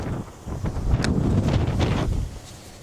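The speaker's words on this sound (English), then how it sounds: "By the way, yeah, it is very windy, folks." Strong wind buffets the microphone on a pier at the Port of Galveston, Texas, a steady low roar with gusty swells that eases slightly near the end.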